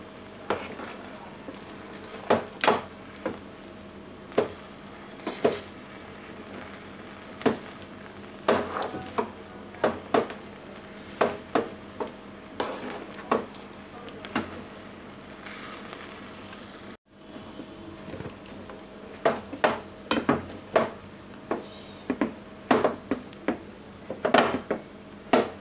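Flour dough being stirred and cooked in a pot on a home stove, with scattered sharp clinks and scrapes of a utensil against the pot at an irregular rhythm over a low steady background, close and fairly quiet.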